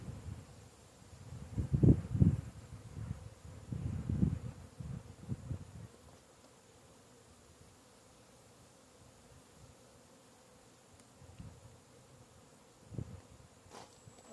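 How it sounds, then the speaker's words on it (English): Honey bees buzzing in a Langstroth hive box while frames are pushed aside, with loud close buzzing bursts early, then a quieter, sparser hum with occasional louder passes. "Still got a few bees in the box here."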